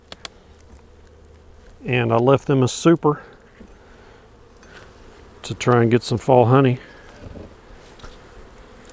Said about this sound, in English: Looks like we got a lot of bees up here.